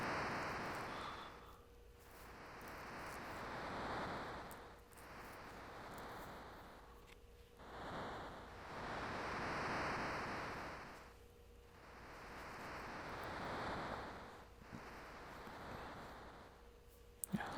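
Ocean waves washing around a drifting ship in a Final Fantasy V scene, soft hissing surges that swell and fade every few seconds, quiet and distant.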